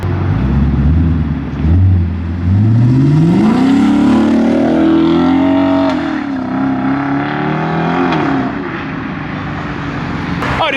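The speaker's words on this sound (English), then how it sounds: "we got the Lexus ISF rolling out here" A modified Lexus IS F pulls out of a Texas car show, its engine revving loud and close with rising and falling pitch sweeps as it accelerates away, a steady roar throughout.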